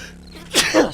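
A single sharp sneeze bursts out close and loud in two quick parts, a short intake and then a forceful blast, during a gaming session.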